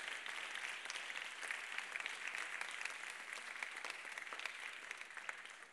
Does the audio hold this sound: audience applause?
yes